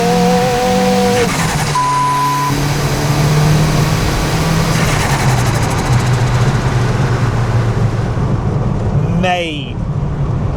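A car engine drones loudly up close, its pitch climbing and settling as the car accelerates, with a quick rising sweep near the end and people talking over it.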